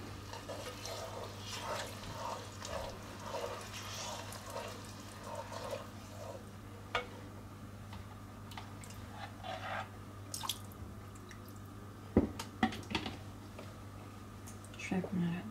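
Turkey risotto stirred in a pan over low heat, giving soft wet squelching and dripping sounds at a steady pace, close and fairly quiet, with a few sharper clicks toward the end.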